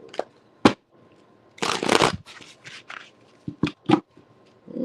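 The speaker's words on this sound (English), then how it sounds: "And we'll do these quick shuffle." Tarot cards being shuffled in quick bursts, with riffling flutters and sharp snaps and taps between quieter gaps, close to the listener.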